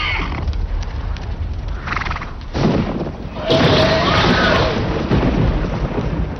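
Wild mustang horses neighing amid a thunderstorm, shrill whinnies rising over rumbling thunder and rain, with a louder burst of storm noise in the second half.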